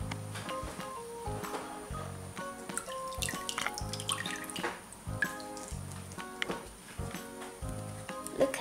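Giant water-growing Orbeez frog toy lifted from water, with drips and small splashes pattering irregularly close by and runs of trickling liquid throughout. No speech is heard.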